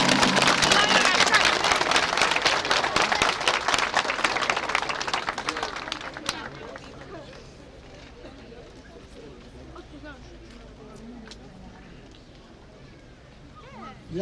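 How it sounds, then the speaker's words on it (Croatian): An audience greets Sead Džafić with loud, dense applause that holds for about six seconds, then quickly dies away into a quiet hall with faint murmurs. "Molim da velikim aplauzom pozdravite gospodina Seada Džafića."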